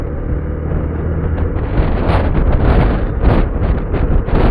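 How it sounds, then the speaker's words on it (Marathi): Strong wind buffets the microphone while riding a motorbike near Lonavala, a loud continuous roaring rush with gusty swells and no voices. "तुम्ही बघू शकता किती वारा आहे"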